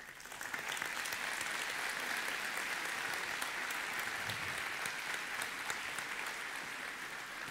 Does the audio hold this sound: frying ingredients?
no